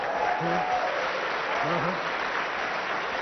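Applause and clapping run steadily in the background, a dense, moderate wash of hands while a voice speaks over it.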